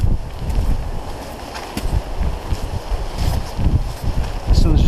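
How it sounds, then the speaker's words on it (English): Icy wind buffeting a boat and the microphone in uneven loud gusts, with rushing water in the background and some talk over it. "there really is a real icy bite in that wind"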